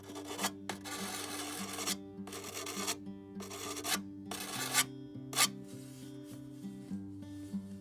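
A whetstone rubbed back and forth along a shovel blade to sharpen it, a close, steady rasping scrape in repeated strokes with brief pauses between passes.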